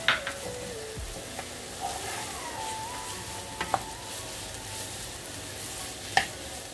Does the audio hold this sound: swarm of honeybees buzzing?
no